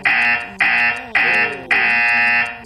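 A game show buzzer blares four times in quick succession on a French quiz show, each a loud, harsh, sustained electronic tone, the last one longest.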